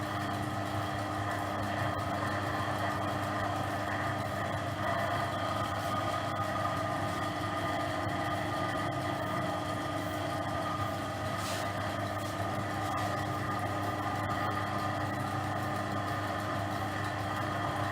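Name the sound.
lathe motor running with refitted pulley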